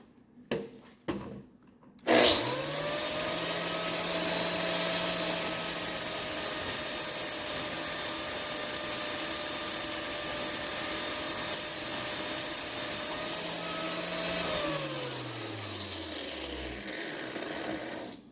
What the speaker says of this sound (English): There we go, tungsten grinding time.